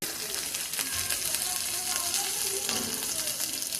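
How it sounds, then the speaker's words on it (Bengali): Food stirred in a salted pan over low gas, a soft continuous frying hiss with faint scraping and light clinks running under it. "পরিমাণ মতো নুন দিয়ে এটাকে নেড়ে দিতে হবে।"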